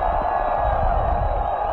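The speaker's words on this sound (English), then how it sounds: "the crowd here is enjoying it" A college football crowd at a Georgia Southern versus Middle Tennessee State bowl game roars in a sustained, dense wash of cheering and whoops filling the stadium, loud and continuous.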